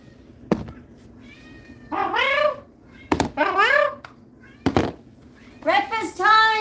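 A young kitten with FIP in a cat nursery gives several loud, drawn-out meows in separate bursts, interrupted by sharp thumps or knocks, close to the microphone.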